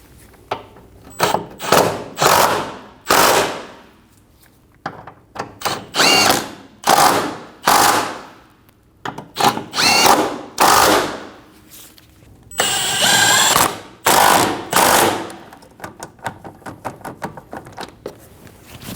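Repeated power-tool bursts run down Volkswagen Passat rear control arm mount bolts, roughly a dozen short whirring pulls of a second or so each, close and loud, separated by brief pauses.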